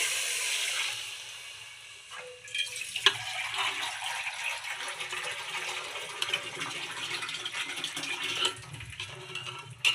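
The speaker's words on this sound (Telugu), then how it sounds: "ఒక్క బొగోనా రైస్ తీసుకునేటప్పుడు 2 బొగోనాలు వాటర్ వేయాలి" Water poured from a container into rice for veg pulao, a soft hissing trickle that begins after a quiet start and continues with splashy fluctuations for several seconds, fairly faint and close.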